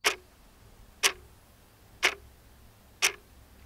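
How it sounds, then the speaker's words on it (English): Four sharp metallic ticks from a layered cowbell and clockwork, one per second, evenly spaced and clear against a quiet background, with a bright bell-like ring on each hit. "I layered 2 instruments, a cowbell and a clockwork"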